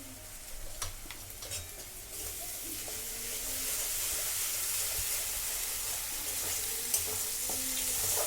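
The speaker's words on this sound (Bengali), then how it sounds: "রসুনটা হালকাভাবে ভাজা ভাজা করে নেব। তারপর এতে দেব 2 চামচ, ছোট চামচের 2 চামচ আদা বাটা" Garlic and ginger paste fry in a pan for bhetki malaikari, a steady soft sizzle and hiss with occasional stirring clicks, growing a little louder midway and continuing alone.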